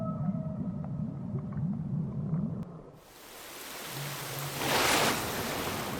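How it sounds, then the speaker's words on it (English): Humpback whale song recorded underwater in Antarctic waters: low, sweeping moans and rising calls at first, then a hissing wash of water noise with a faint low tone and a surge of broadband rush. "These are the songs of the humpback whale"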